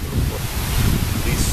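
Wind buffets an outdoor microphone with a steady, loud, low rumbling roar that gusts slightly throughout.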